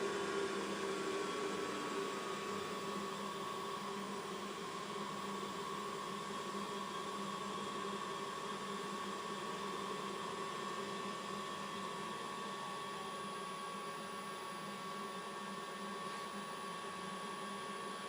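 AC motor of a Mikini 1610L lathe driven by a variable frequency drive as it is slowed down; a faint, steady electrical hum and whine with tonal lines continues alone for the whole stretch.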